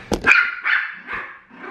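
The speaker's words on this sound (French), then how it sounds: "Les chiens." Dogs bark nearby in a short series of sharp, loud barks followed by a few softer yips and whines, with no talk over them, in a home setting where crêpes are being made.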